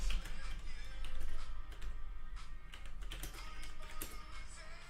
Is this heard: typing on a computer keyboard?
yes